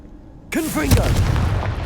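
A Confringo blasting spell goes off in Hogwarts Legacy, a sudden loud burst after brief quiet, then a sustained crackling roar with whooshing magical tones trailing through the blast.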